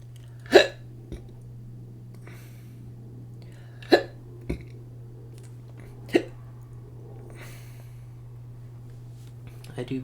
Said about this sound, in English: I do be having the hiccups though.